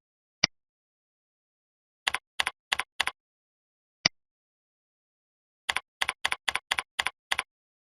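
A username and password are typed on a computer keyboard: crisp isolated key clicks, then short quick runs of keystrokes with brief pauses between them, close and clear in an otherwise silent room.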